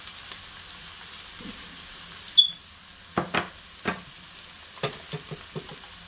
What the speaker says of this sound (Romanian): călim ceapa.